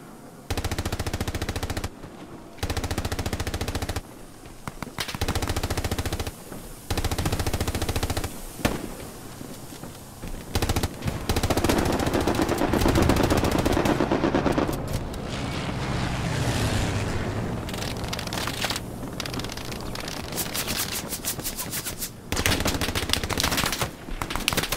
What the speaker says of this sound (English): they've got someone firing an MG down there.